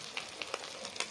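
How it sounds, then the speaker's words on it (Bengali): An egg frying in hot oil in a pan, a close, steady sizzle punctuated by several sharp crackling pops at irregular intervals. "এই যে ডিম ভাজছি"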